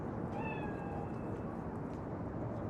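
One drawn-out cat meow from the video game Cyberpunk 2077, clear and fairly close, rising then trailing off over a steady ambient hum.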